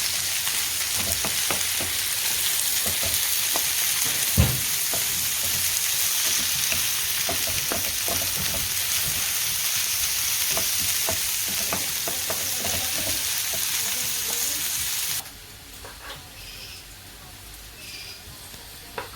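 Small chicken pieces sauté in a hot pan, a steady close sizzle with scattered pops and stirring clicks that runs for about fifteen seconds and then drops away to near quiet.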